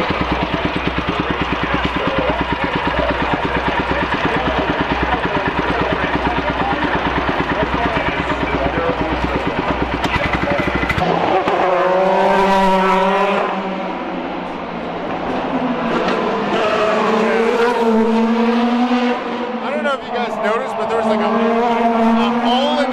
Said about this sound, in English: Here we have some Indy cars lined up.